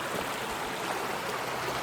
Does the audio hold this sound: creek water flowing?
yes